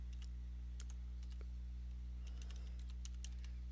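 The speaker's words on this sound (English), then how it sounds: "Now we're going to type in get process." Computer keyboard clicked in short bursts of keystrokes while entering a Windows PowerShell command, sharp taps in irregular clusters over a steady low electrical hum, no voices.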